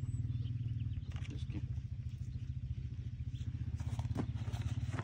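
Felco electric pruning shears cutting olive tree branches outdoors, a fast steady motor buzz pulsing throughout with occasional snaps and clatter of cuts, fairly close.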